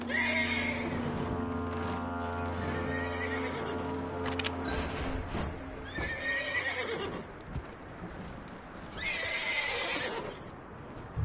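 A horse whinnies loudly and at length in Red Dead Redemption 2, followed by shorter snorts and another neigh near the end, with hooves shuffling underneath.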